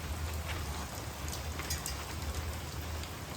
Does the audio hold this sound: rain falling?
yes